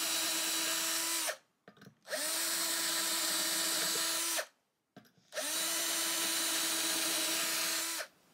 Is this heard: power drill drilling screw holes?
yes